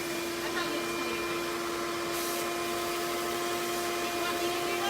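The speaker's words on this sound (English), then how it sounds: "I'm going to go ahead and vacuum this real fast and replace it" Vacuum cleaner running steadily while cleaning out a kiln during an element replacement, a continuous motor whine with strong tonal hum, close and even throughout.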